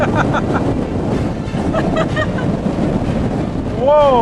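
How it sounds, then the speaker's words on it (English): Strong outdoor wind on a campervan road trip to Canberra, roaring and buffeting the microphone steadily at close range, while a voice exclaims over it and a brief whistling tone rises near the end. "That's some powerful wind out there!"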